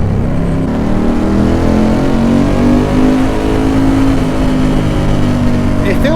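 Ducati 916 motorcycle engine while riding, a loud, near, steady drone with rising and falling harmonics as revs shift, mixed with wind noise and a voice talking over it.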